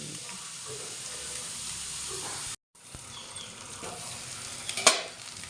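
Onions fry in a pan with garlic paste for an egg curry, a continuous close sizzle and hiss with soft stirring scrapes, briefly cut off, then resuming with a sharper crackle near the end.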